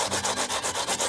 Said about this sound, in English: Look at that, grating a potato.